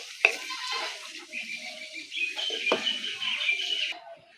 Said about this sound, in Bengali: ফোড়নটা একটু ভাজা ভাজা হোক।